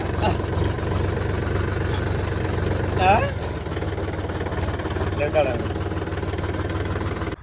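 A tractor engine idles steadily in a farm field, a low continuous rumble at moderate distance, with people talking briefly over it and a short rise in engine noise partway through.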